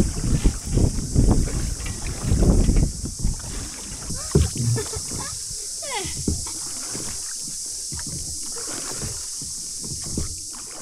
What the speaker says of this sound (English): So we'll just try out that oar, shall we?